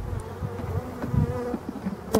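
Black bees of Brittany buzzing steadily around a Voirnot hive in a forest during a spring inspection, a close, continuous hum with a few brief knocks.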